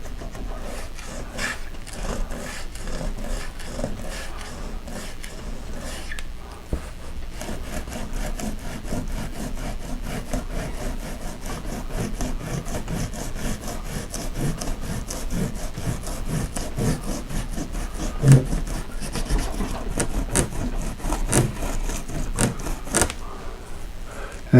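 Dried masking fluid is rubbed and peeled by finger from watercolor paper: a long, close, continuous scratchy rubbing with rhythmic strokes and occasional small bumps, no voices.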